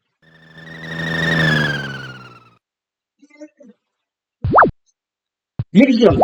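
Firing sound effect in a programmed Space Invaders game, a few short electronic zapping sweeps after a longer wavering tone, with a person speaking briefly between them.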